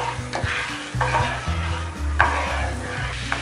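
Sugar syrup is stirred in a pan over a medium flame with 50 g of sugar, giving steady scraping and swishing strokes with a faint sizzle under them. It runs continuously for a few seconds and there is no talk.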